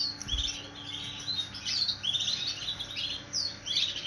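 Small breeding birds, paired for the breeding season, chirp and tweet in repeated bright calls throughout, fairly close, with a low steady hum beneath.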